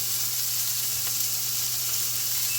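Thick sirloin steak searing in a hot cast iron pan with avocado oil gives a loud, continuous close-up sizzle, an even hiss with no breaks and no voices.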